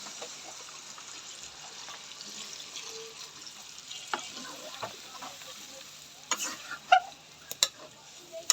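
Water added to sizzling browned country chicken curry in a pan, a soft steady frying hiss with a light watery wash, then a few sharp clatters and splashes near the end.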